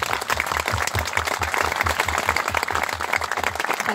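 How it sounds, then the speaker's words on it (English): Dense applause from an audience at a memorial gathering in Hereford fills the room steadily, with a soft, regular low thump pulsing underneath. "can we have a round of applause, please?"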